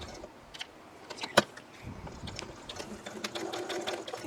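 A sewing machine top stitching along the long sides of a fabric piece, its needle running in a quiet, steady whir punctuated by a few sharp clicks, close up and without talk.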